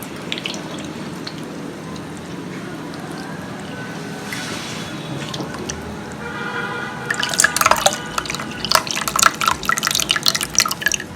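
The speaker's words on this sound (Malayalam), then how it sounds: "ഈ പുളി പിഴിഞ്ഞിട്ട് ഇതിന്റെ ആ ജ്യൂസ് നമുക്ക് ഇതിലേക്ക് ഒഴിക്കണം" Tamarind is squeezed by hand and its juice poured into a pot of Udupi-style rasam with tomatoes: quiet wet squishing at first, then a burst of close splashing and dripping liquid.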